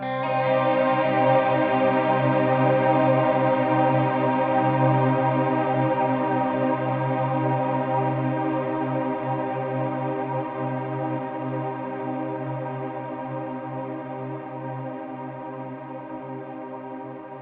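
A sustained guitar drone through an Absynth Etherizer effect in Kontakt, washed in shimmering, chorus-like effects, rich and steady, slowly fading over its length, with no voices.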